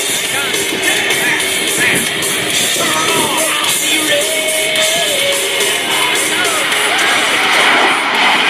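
A CF-18 Hornet fighter jet with both engines in afterburner on its takeoff roll at an airshow, a loud, dense, steady roar that fills the whole stretch.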